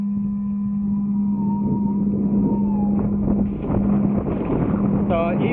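SiFly eFoil electric motor humming steadily while riding on water, a constant tonal whine under wind rush and splashing, heard from head height.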